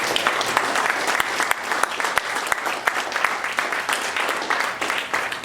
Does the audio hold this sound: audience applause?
yes